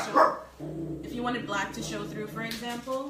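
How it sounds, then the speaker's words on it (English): A pet dog gives a sharp bark at the start, then barks more faintly under someone speaking close to the microphone. "Sorry guys, that's my dog."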